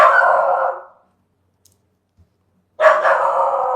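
An excited dog barks indoors in two loud bursts, each about a second long, separated by a quiet pause of nearly two seconds, with no talking.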